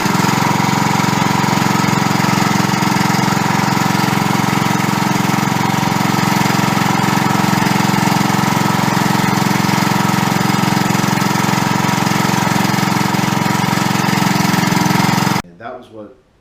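A Craftsman lawn tractor fitted with a snowplow runs at a steady, loud idle-like drone with a knocking mid-range hum, holding constant for about fifteen seconds before cutting off abruptly.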